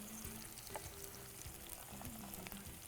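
Onion, peas, carrots and beans sauté in a pan, giving a steady close sizzle and crackle with faint stirring scrapes throughout, and no talk.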